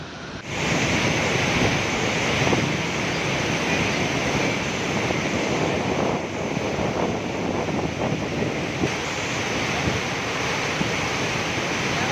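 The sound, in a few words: rushing water at river headworks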